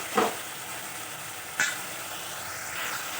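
Potatoes dropped into a hot pan of spices and ginger for jackfruit kofta curry, giving a steady soft sizzle with two brief louder bursts as pieces hit the oil, quiet and close.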